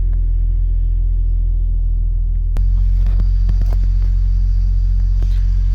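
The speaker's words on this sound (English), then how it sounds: "Okay, car is running." A Lexus RX330 engine running at idle with a throttle actuator fault, a steady low rumble and hum that shifts abruptly partway through into a fuller, brighter mechanical drone.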